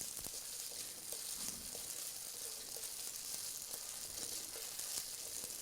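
Tofu being broken up with a spatula as it fries in a pan, giving a steady, fairly quiet sizzle with scattered light scraping taps from the utensil, no voices.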